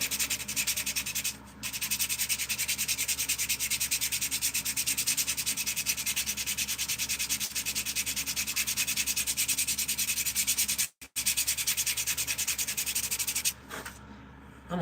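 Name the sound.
sanding gouges out of a wooden spoon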